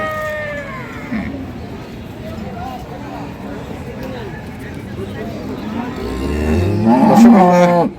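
Dairy cows at a cattle market in Ambari, Dinajpur, Bangladesh: one moos loudly and close toward the end, with fainter lowing earlier amid a busy crowd of talking voices.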